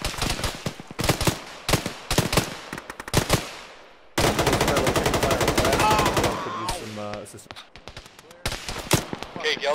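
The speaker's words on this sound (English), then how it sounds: "We're taking fire west." Rapid bursts of automatic gunfire and single shots crack through a military firefight in the ArmA video game, loud and close, coming in clusters with short pauses and a long sustained stretch of firing in the middle, with voices talking over it.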